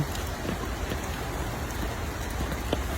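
Rain falls steadily outdoors, a dense even patter of drops hitting surfaces, close and continuous without voices.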